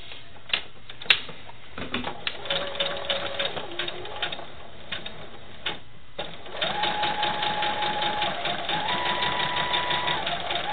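A sewing machine stitches sashing onto a quilt, starting with scattered clicks and short bursts before settling into a fast, steady mechanical whir of needle strokes that runs to the end.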